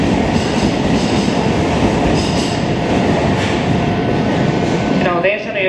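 A Keisei 3000 series rapid train pulls into platform 4 at Keisei Takasago station, its loud, steady rumble filling the platform with a brief wheel squeal as it slows near the end.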